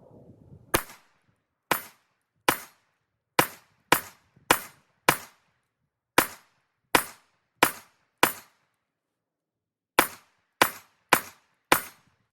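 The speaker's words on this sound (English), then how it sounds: "let's put some rounds down range." A Glock pistol fitted with a CH Precision MOS plate fires about fifteen sharp, loud shots at a range in uneven clusters with short pauses between them, and nothing else is audible.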